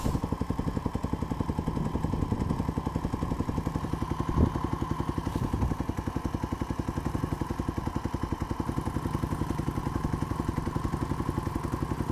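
A dirt bike engine runs steadily through a muddy ride, its close, continuous pulsing putter holding an even rhythm with a brief knock partway through.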